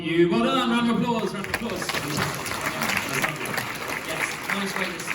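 An audience at an Edinburgh Fringe theatre performance of The Importance of Being Earnest claps in a dense wash of applause that fades gradually, with a voice speaking over the start.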